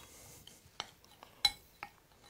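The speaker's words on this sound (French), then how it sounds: "Mélangez encore." Walnut cake batter being stirred in a bowl after baking powder goes in, a few separate clinks of utensil against the dish at irregular intervals over a faint background, no talking.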